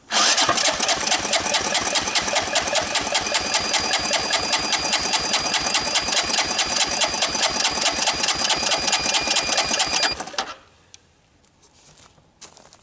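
Honda ATC200E three-wheeler engine, partially seized and freshly oiled, being cranked over by the starter, a loud fast steady chugging rhythm for about ten seconds that then stops abruptly, leaving quiet.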